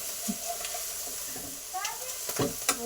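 Ground spices (coriander, garam masala, white rice and pepper powders) frying in a pan, a brief close sizzle with a few scraping stirs and faint background voices.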